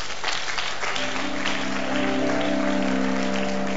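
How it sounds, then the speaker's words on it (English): An audience at a church sermon claps steadily and continuously throughout, with a sustained tone running underneath the applause. "I like the way you are clapping, sir."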